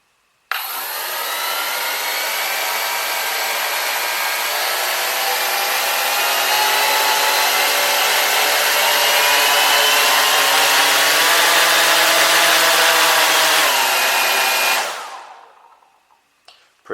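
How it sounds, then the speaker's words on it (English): Propellers on a Cheerson CX-20 quadcopter spin up abruptly into a loud, close, steady whirring whine, hold for about fourteen seconds, then wind down and fade out. "when I push this lever forward, the propellers are going to come on"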